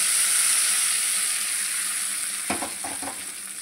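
Tempering sizzles and fries in hot oil for a Tamil Nadu-style eggplant mash, a constant bright hiss joined late by a quick run of sharp stirring taps.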